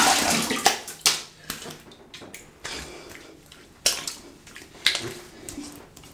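Hair clipper razor rinsed in water, splashing and sloshing in bursts with small clinks and knocks, fairly close, with no talking.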